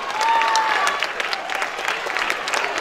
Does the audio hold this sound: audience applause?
yes